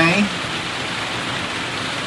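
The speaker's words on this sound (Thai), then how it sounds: "รู้ใช่ไหมตอนนี้วัดไฟหินฝนตกหนัก" Heavy rain falls at a Thai temple as a dense, steady hiss that fills the whole stretch evenly, loud and close, with a brief sound at the start.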